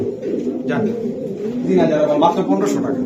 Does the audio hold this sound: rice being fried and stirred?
no